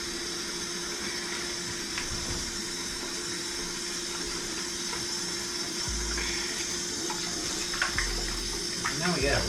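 Water runs steadily from a tap to rinse a dog, a continuous close hiss and splash that holds across the whole stretch with faint background sounds.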